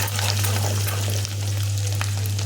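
Vegetables fry in hot oil for a Telugu home-cooked curry, a steady close sizzle and crackle with occasional stirring scrapes, continuous and fairly loud.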